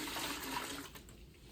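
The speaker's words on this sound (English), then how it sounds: "now we're going to pour that water into the commode because it's below the waist" Dirty water pours into a toilet in a steady, splashing rush that tapers off after about a second, close by and with no talking.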